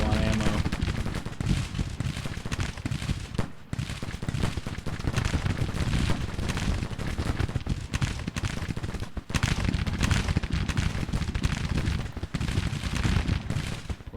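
Civil War-era musket volleys from massed brigades in a battle strategy game crackle in dense, continuous rolling bursts, loud and sustained with brief lulls, no talk heard.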